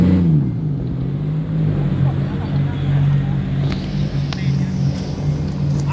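A drag car in the 265 class runs the strip at a Bangkok drag meet, a loud, sustained engine drone holding a low pitch that dips briefly and then steadies, with talk heard over it.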